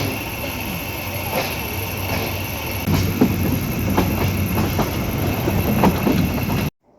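The 774 Kalni Express runs between Sylhet and Shaistaganj with a loud, steady rumble of rolling wheels, punctuated by repeated clacks over rail joints that grow busier midway, before the sound cuts off abruptly.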